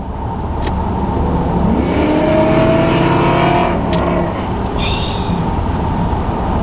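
A 1990s BMW 540 E34 luxury saloon with a V8 engine drives past, giving a loud, continuous engine roar that swells in pitch as it accelerates and then holds steady, with no talking.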